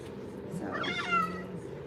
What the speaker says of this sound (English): Mr. Mona Lisa meow